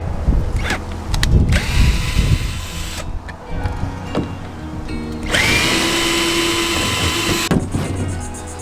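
A power drill works on the brace screws of an old fishing boat during seat removal, running in several loud close bursts of whirring with pauses, clunks and handling noise between them.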